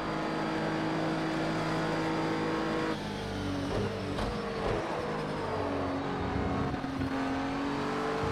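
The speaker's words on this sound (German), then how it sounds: "Hört sich gut, so ein neues Auto." A GT3 race car in Project CARS 2 at Spa drones steadily at high revs, its engine tone shifting pitch as it accelerates and changes gear, loud and continuous with no talk.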